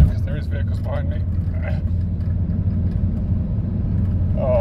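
A Mercedes 2.2 CDI van engine labours at full throttle uphill in fourth gear with a charge air system fault, giving a continuous loud low drone, while someone talks over it close to the microphone.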